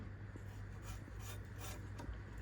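A knife cuts through peeled karande (air potato) in thick slices, giving steady rasping, scraping strokes over a constant background hiss, fairly close, with no speech.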